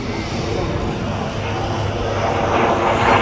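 An older swept-wing aircraft flies wide display manoeuvres at the RAF Cosford Airshow 2013. Its engine gives a steady, loud roar that slowly swells, with commentary over it.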